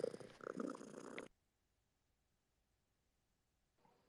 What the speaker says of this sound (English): my cat purrs so loud